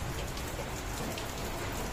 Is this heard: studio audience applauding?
no